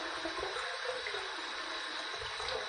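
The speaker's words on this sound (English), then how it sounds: "Gonna run this under some hot water." Hot water runs from a tap over a straight razor being rinsed before a shave, a steady broadband hiss and splash that holds alone and fairly quiet for the whole stretch.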